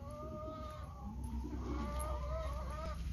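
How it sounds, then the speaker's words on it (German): A chicken clucking somewhere away from the listener outdoors, a few soft drawn-out clucks and calls, moderately faint over a broad background hum. "ich höre einen Huhn ganz woanders."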